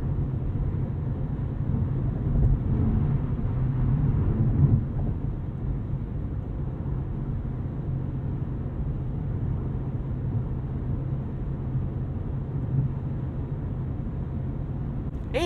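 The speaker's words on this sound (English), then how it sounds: "So it settles in at highway velocity, showing off its cabin insulation." Steady low road rumble and tire drone inside a 2023 BMW M8 Competition Coupe cruising at highway speed, a continuous muffled hum with no voices, even in level throughout.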